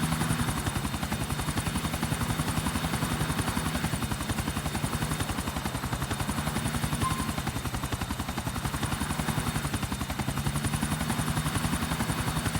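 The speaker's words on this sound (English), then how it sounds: "I'm not good at piloting the helicopter in this game" A helicopter in Grand Theft Auto IV flying, its rotor thudding in a fast, steady chop over an engine whine, loud and continuous throughout with no voices.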